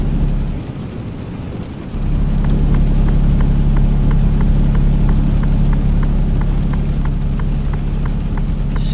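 Steady heavy rain hisses in Euro Truck Simulator 2, a loud even wash over a low engine drone, with a regular faint ticking like wipers running through it.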